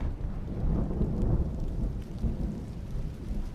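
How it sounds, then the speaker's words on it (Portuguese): Heavy rain pours steadily during a storm that has caused landslides and flooding, with deep rolling thunder rumbling throughout; no voices. "onde chove bastante ainda"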